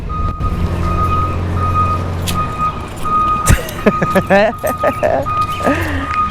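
A dump truck gives a steady run of evenly spaced reversing beeps over an idling engine, then a sharp air-brake hiss and a sliding tone. People talk over the later part.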